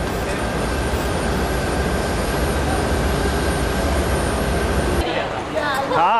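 Airplane at an airport in Israel, a steady loud engine drone held for several seconds before cutting away to a different, quieter scene.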